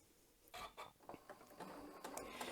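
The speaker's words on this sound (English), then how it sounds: "I'm just going to start sewing here" A Bernina M7 sewing machine stitches fabric for a welt zipper pouch, a run of quick mechanical rattling bursts starting after a brief quiet, fairly close and continuing steadily to the end.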